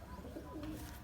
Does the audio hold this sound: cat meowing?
no